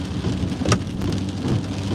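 Heavy rain pours down steadily in Southwest Florida, a loud, dense wash with a brief sharp crack partway through, and no voices.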